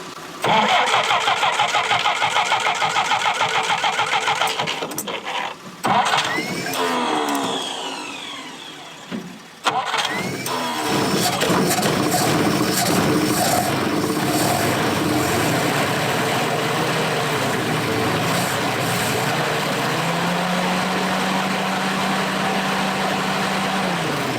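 A 1965 Jeep CJ5 engine cranks with the starter grinding, sputters and briefly stalls, then catches and settles into a loud, rough idle up close in deep woods.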